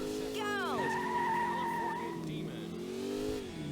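Ford Mustang engine in the Dreamcast racing game Metropolis Street Racer, revving and climbing in pitch as it pulls away, with a steady harmonic drone throughout, some tire noise, and someone talking over it.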